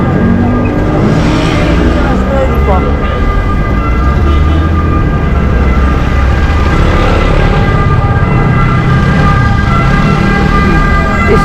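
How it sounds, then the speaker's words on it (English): An emergency vehicle siren wails steadily over loud, rumbling street traffic in Naples, Italy, sustained for the whole stretch without a break. "the eternal sound of Rome is this siren."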